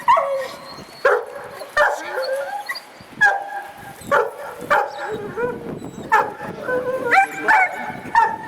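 A herding dog barks and yips repeatedly during a sheep herding demonstration at Rambouillet, with sharp close barks in bursts separated by short pauses and occasional whining tones.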